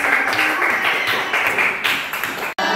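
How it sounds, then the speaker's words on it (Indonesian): A classroom of students claps their hands in a fairly steady, dense patter of close, loud claps that ends abruptly. "Tepuk tangan."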